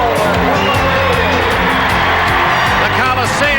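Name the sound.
basketball crowd cheering at the Coliseum in Portland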